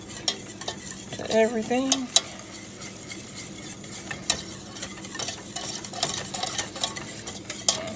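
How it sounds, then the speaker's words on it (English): Soft sizzling and crackling from a pan of honey caramel mixture with intermittent scraping of a utensil stirring, fairly quiet, with a brief spoken phrase near the start. "you can see how it kind of starts sizzling in there"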